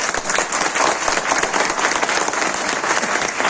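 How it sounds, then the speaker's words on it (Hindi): A crowd applauds steadily throughout, dense clapping at a constant loud level with no pauses. "एक बार जोरदार तालियां उनके लिए।"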